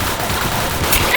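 Rapid bursts of gunfire in the Roblox shooter game Arsenal, loud and dense, forming a continuous volley with no voices.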